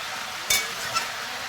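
A pan of pumpkin cooking with a fish head is stirred twice, with a brief scrape near the start and a lighter second stroke half a second later against a faint background sizzle.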